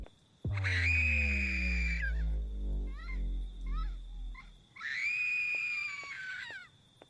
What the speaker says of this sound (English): I hate screams.